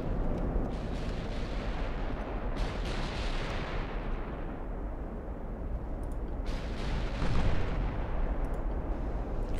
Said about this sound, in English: The battle cruisers look like they just opened fire.